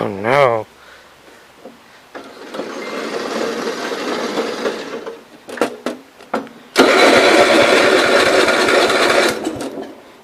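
A 1970 Gravely 408 walk-behind tractor engine cranks, sputters, catches briefly, then fires into a loud, steady rattling idle, with a short opening whir and scattered handling noises between attempts.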